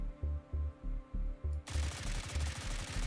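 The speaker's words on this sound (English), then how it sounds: "I want you to notice how much this gun wiggles side to side when you shoot it." HK416 rifle fire in a video game: a few separate short bursts, then a sustained loud rapid stream of shots, close and dry with no voices.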